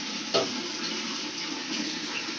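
Water splashing and running during floor cleaning, a steady watery wash with one sharper splash near the start, moderately quiet and close, with no talking.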